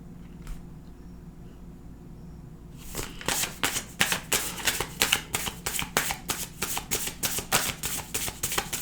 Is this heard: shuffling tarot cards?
yes